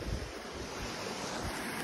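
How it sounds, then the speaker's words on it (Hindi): Steady rushing river water flowing through mountain terrain near a small waterfall, a dense continuous roar mixed with wind buffeting the microphone, with no voices heard. "यहाँ से वही वाला नदी का पानी जा रहा है"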